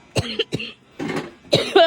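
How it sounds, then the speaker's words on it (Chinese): A child with a cold coughs several times in quick bursts, close and fairly loud, with short pauses between the harsh, wet coughs. "咳嗽。"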